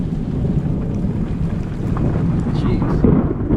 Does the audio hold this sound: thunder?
yes